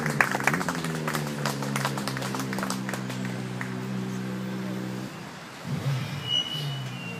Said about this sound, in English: Big round of applause for the winger.